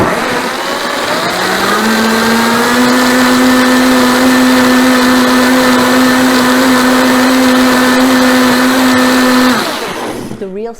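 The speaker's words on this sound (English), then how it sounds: "I want to blend this just a little bit more to make it even smoother and creamier" A countertop blender runs a batch of healthy gravy made with roasted garlic, spinning up with a rising whine, then holding a loud, steady high-speed hum for several seconds before winding down at the end.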